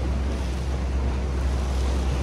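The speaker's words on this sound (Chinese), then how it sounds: "我们现在无限接近这个瀑布了。" The Rhine Falls waterfall roaring up close, heard from a boat as a loud, dense, unbroken rush of falling water mixed with wind buffeting the microphone.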